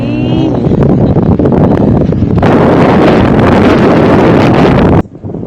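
Strong wind buffets a microphone outdoors, a loud rough rumble that roars continuously and cuts off abruptly near the end.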